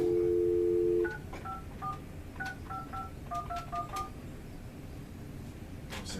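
A telephone is dialed to place a call: a steady dial tone gives way to a quick series of about a dozen short touch-tone beeps in irregular bursts, clear and close, with no talking.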